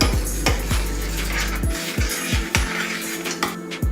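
Shrimp and sun-dried tomatoes get stirred in a pan, with sharp metallic clanks and scrapes of a utensil against the pan at an irregular pace over a low sizzle.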